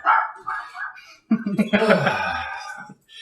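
A pet dog barks several times at close range, the yaps mixed in with people talking and laughing in a room during an interview.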